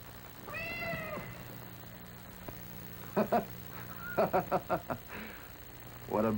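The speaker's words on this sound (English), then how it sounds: "The dead girl turned into a black cat." A black cat gives a drawn-out meow near the start. Later come several short honking calls and bursts of sound, with voices faintly in the background.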